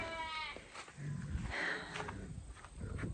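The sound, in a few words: sheep bleating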